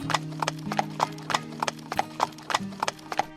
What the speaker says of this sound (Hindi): त्रिशूल और नरेंद्र दोनों मिलकर अपने घोड़े गाड़ी से जंगल के रास्ते से जा रहे थे